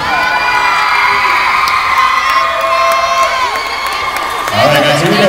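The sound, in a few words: crowd cheering and shouting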